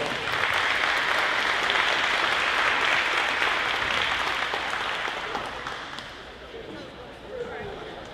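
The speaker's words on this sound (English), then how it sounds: "Let's give this group of 70 Scholar athletes a big round of applause, please." A high school athletics banquet crowd gives a big round of applause for 70 scholar athletes, with steady, full clapping that fills the room before thinning out near the end.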